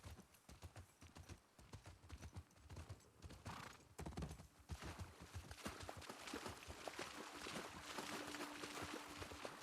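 Rhythmic video game hoofbeats from The Last of Us Part II clip-clop steadily at a walking pace, fairly close, with a brief horse whinny partway through.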